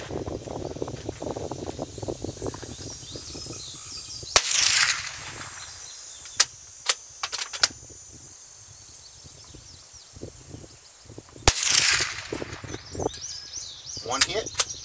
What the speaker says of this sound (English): I'm going to shoot 5 rounds at each distance and see how we can do.